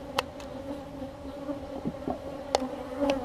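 Agitated honeybees buzzing around a hive being opened and disturbed, a close, steady droning hum with individual bees zipping past the microphone in brief louder swells.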